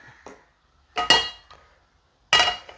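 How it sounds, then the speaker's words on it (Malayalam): Metal pan set down on a kitchen stove, a few sharp close clanks and scrapes separated by silence, with no talking. "ഇനി ഇതേ നമ്മൾ ഒന്ന് സ്റ്റൗ ഓൺ ചെയ്ത് ഒരു പാൻ എടുപ്പ് വയ്ക്കാം"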